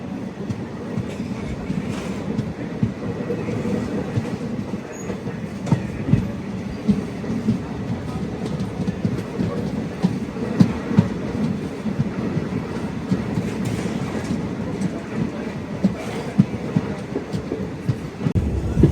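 A passenger train on the Katra to Srinagar line in Kashmir runs with a steady rumble and rhythmic wheel clatter heard from inside the carriage, constant throughout.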